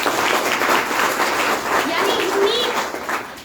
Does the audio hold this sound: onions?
no